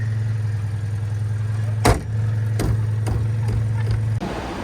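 A Citroën 2CV Charleston drives along with its small engine droning in a steady low hum close by, interrupted by a few sharp clunks and rattles.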